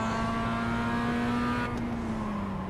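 Mazda MX-5 race cars accelerating off the start in the iRacing sim at Tsukuba, a steady loud engine drone with rising pitch that shifts down near the end, no talk over it.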